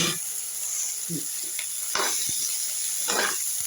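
Potatoes tipped into a pan of roasted cumin and onion sizzle steadily at low heat, with a few soft stirring scrapes and clinks close by.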